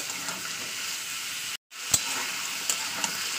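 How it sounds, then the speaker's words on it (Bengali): Beetroot, carrot and peas sizzle and fry in oil in a pan while being stirred, a steady close hiss broken by a brief silent gap and a few sharp scrapes of the spoon, with no talking. "তো এটাকেও সেম প্রসেসে 2-3 মিনিট ভালো করে নেবো তেলের উপরে।"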